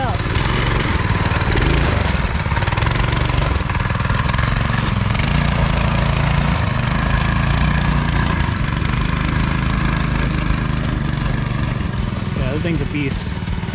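A go-kart's 7-horsepower engine with a torque converter and live axle runs steadily, a loud, close, continuous mower-like chug throughout, with voices mixed in.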